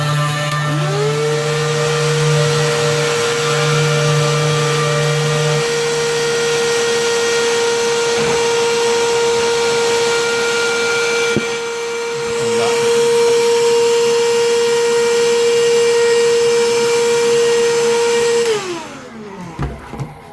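A CNC router spindle whines at a steady high pitch while milling through cork into the spoilboard, with rough cutting noise early on, then the motor winds down near the end.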